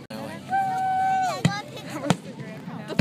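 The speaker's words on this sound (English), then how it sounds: "Fireworks have started. I like that sound." A whistling Fourth of July firework rises and fades, followed by a few sharp pops and bangs, with faint crowd chatter in the background.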